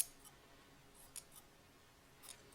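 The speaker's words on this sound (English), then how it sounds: "We're just going to take these nice sharp Ginger scissors and go around and whack that off." Sharp Ginger scissors snip through sweater fabric while a pincushion is trimmed, several faint, crisp cuts spread out across a quiet room.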